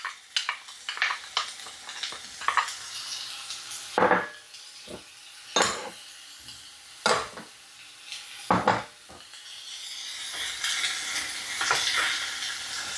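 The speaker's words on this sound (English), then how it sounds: "So I'm gonna put my onions in there, my green onions." Onions and green onions saute in avocado oil with a soft steady sizzle, broken by repeated sharp scrapes and clacks of a utensil stirring against the pan, close and clear.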